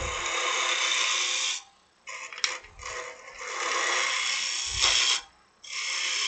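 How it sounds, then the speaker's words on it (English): A woodturning lathe tool cuts into a spinning wooden beehive box, giving a loud, harsh scraping hiss in long bursts broken by brief pauses as the tool is pulled away and pushed back in. "So I just push the tool in at 45 degrees, kind of like a drill bit."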